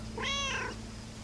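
A single cat meow rises and falls clearly over a low steady hum, short and close, with no voices.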